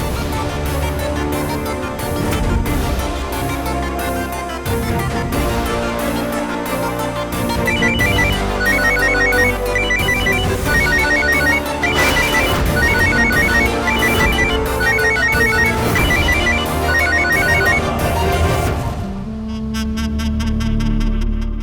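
A melodic electronic phone ringtone plays loudly and repeatedly, a looping tune that cuts off near the end.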